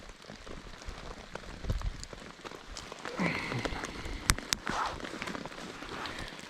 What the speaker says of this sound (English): it starts to rain more and more as I try and light this fire